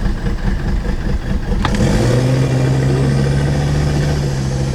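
A Ford Super Duty truck (2011–2016) engine floored in low gear roars loudly, its pitch climbing sharply and then holding at a steady, strained high rev close by.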